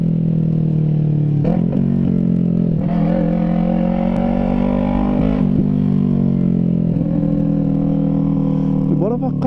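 A Yamaha MT-03 motorcycle revs hard through a loud aftermarket exhaust pipe, a sustained throaty drone that rises and falls in pitch with repeated throttle blips, close and continuous throughout.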